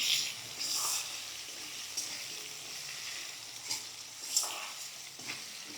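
Cubed potatoes fry in oil in a pan, a quiet sizzle punctuated by several sharp spatula stirs and scrapes at irregular intervals, close by.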